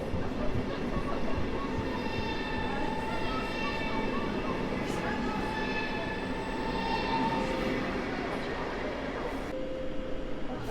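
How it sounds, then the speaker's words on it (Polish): A delayed train arriving at night at Warszawa Zachodnia station, a steady rolling rumble with tonal wheel squeal and hum throughout, moderately near, with no clear speech. "Dojeżdża opóźniony skład BWE."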